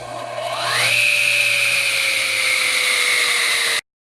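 A radial arm saw motor spins up with a rising whine, then runs at a steady high pitch for a few seconds before cutting off abruptly.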